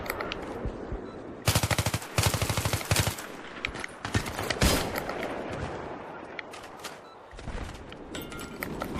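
Rapid automatic gunfire and single shots in the video game Battlefield 3 multiplayer, loud bursts of rattling fire in clusters with brief pauses, close and sharp.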